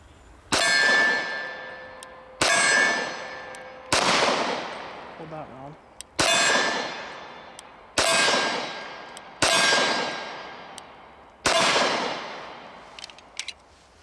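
Dan Wesson Vigil 1911 pistol shots striking steel targets, seven sharp ringing clangs spaced about every one and a half seconds, each bright metallic impact decaying slowly, loud and close with no talk.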